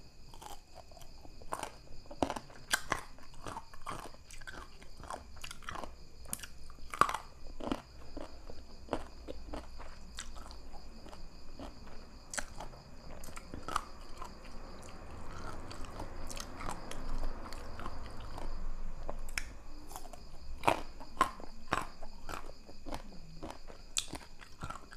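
Crunchy pickled mango dipped in chili salt is bitten and chewed close up, a long run of sharp, irregular crunches over quiet background hiss.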